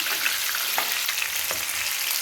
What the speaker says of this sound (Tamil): பூண்டு வெங்காயம் நல்லா வதக்கியாச்சு